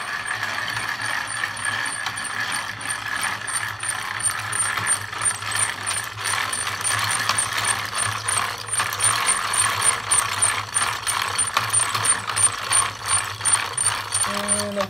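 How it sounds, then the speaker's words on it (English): A hand-cranked rope making machine clicks rapidly and rhythmically as its gears turn while twisting rope, with a continuous close ratcheting chatter and a low mechanical hum beneath. "So the ropes, these single pieces are all twisting clockwise. So just keep cranking, you can crank it a lot faster."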